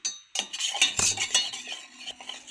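A spoon stirs salt into homemade lemon juice, producing close, bright metallic clinks and scraping against a glass or vessel in quick, uneven strokes for a couple of seconds.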